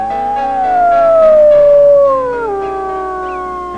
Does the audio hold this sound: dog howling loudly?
yes